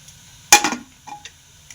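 A metal pot clinks sharply once while starch-water rice is set on to cook in a home kitchen, followed by a few fainter knocks and taps, close and otherwise quiet.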